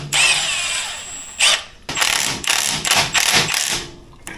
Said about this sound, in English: So I'm going to start taking the bolts off of the bottom first